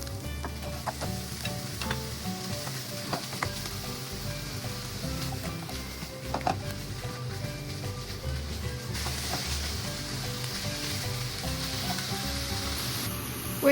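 Ground beef with onions sizzles in an uncovered pan for Filipino-style beef shawarma rice, a steady crackling fry with intermittent louder pops and spits, close and unaccompanied by speech.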